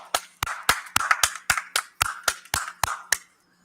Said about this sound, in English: please, let's clap for Mr. Darnell Davis.